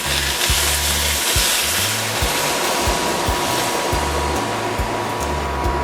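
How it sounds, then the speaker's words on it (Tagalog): Chicken stock poured into a hot pan while making pancit puti, a loud, steady broad sizzle and hiss running throughout, with faint low clunks and scraping along the bottom. "ngayon pwede na tayo maglagay ng ating chicken stock"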